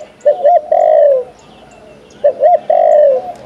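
A spotted dove coos loudly and close by in two matching phrases, each made of short rising notes followed by a longer drawn-out coo, with a quiet pause between them.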